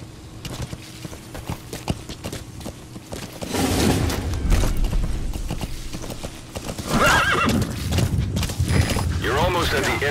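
Horse hooves clip-clopping in a steady gallop with loud whinnying neighs, from the Afghanistan wilderness in the video game Metal Gear Solid V: The Phantom Pain, growing louder midway amid ambient game sounds.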